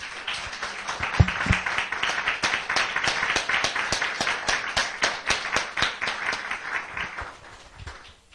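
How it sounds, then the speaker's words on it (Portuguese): A church congregation claps during a sermon, many hands in a fast, fairly rhythmic patter with crisp distinct claps, sustained for several seconds before thinning out at the close. "Vamos dar uma salva de palmas para o nosso Deus"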